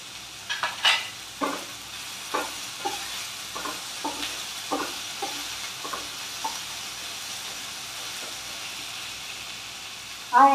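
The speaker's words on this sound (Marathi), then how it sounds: "आणि हे परतताना आपण मुगाची डाळ ही 2-3 तास भिजवलेली आहे" Soaked moong dal is stirred in a hot pan, giving a soft steady sizzle under a run of distinct scraping stir strokes, close and moderately loud, with no voice.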